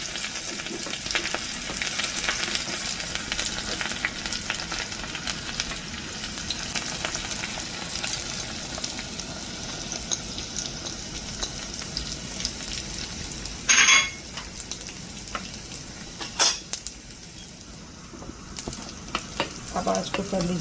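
Onion, mustard seeds and curry leaves frying in hot oil for a tadka, a steady close sizzle and crackle that continues throughout, with a couple of brief utensil clinks.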